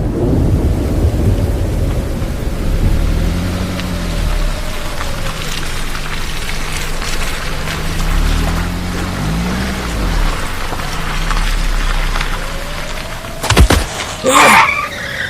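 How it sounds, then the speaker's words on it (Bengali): Heavy rain pours steadily throughout, a dense hiss over a low rumbling bed, until loud, close thunder cracks burst out near the end of the storm. "সেই সময় ঝমঝম করে বৃষ্টি হচ্ছে।"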